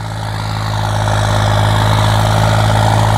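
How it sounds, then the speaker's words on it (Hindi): A turbocharged tractor, either a Sonalika 750 or a Swaraj 855, labors under heavy load in first gear during a pulling contest, with a loud, steady, close-up low engine drone that swells slightly and holds. "ट्रैक्टर स्लिप भी ले रहा है, शायद पहले गियर में है, टर्बो पूरा काम कर रही है अपना"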